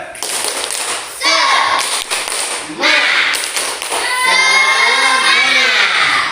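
A classroom of pupils performs the rhythmic 'tepuk semangat' spirit clap, patterned bursts of clapping and tapping mixed with children's chanting voices, loud and close, with a teacher's voice nearby.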